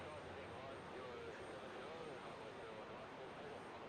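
A distant aircraft taxis onto the runway at Brisbane International Airport in the evening, a steady faint engine roar that holds constant throughout, with people chatting softly nearby.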